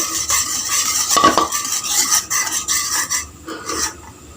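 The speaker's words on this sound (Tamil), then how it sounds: "கை விடாமல் கிளறிக்கிட்டே இருங்க ஹை ஃப்ளேம்லேயும் லோ ஃப்ளேம்லேயும் வச்சு வச்சு நம்ம கலக்கணும்" A spoon steadily stirs and scrapes a thickening gram flour and Horlicks Mysore pak mixture in a metal pan, with continuous close rasping and clinking and no voices.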